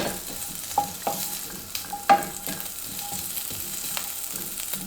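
Seasoned tempeh pieces tossed in a pan with salt and oil, giving a soft sizzle under scattered scraping and clinking taps of a utensil against the cookware, close and fairly loud with no talking.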